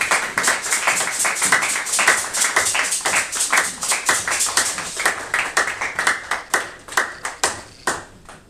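A church congregation claps steadily and loudly, many hands together at first, then thinning into slower, more separate claps near the end.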